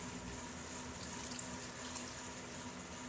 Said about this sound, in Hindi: पानी कुछ कम लग रहा है, इसकी वजह से हम इसमें पानी शामिल कर रहे हैं